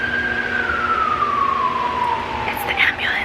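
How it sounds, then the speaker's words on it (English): An ambulance siren passing near a home close to a hospital in Hawaii, a loud wailing tone sliding steadily downward as it goes by, with brief higher chirps near the end. "it's the ambulance."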